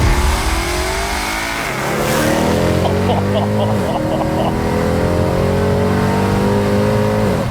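A BMW E92 M3 engine fires up and revs, its loud harmonic engine note climbing and settling into a steady idle drone with a faint hum beneath, close and continuous throughout.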